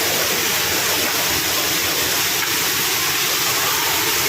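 Small Philippine waterfall rushing steadily, a dense broadband roar of falling water that stays loud and unchanging throughout with no voices.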